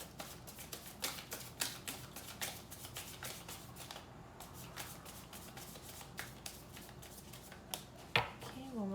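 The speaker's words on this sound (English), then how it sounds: "one more shuffle" Tarot cards being shuffled by hand, a steady run of quick, crisp riffling snaps close to the listener, with a brief pause midway and a sharper slap near the end.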